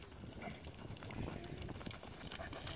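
Horse hooves loping through a pole bending run, a steady clip-clop of footfalls over continuous outdoor noise, moderately close and unbroken throughout.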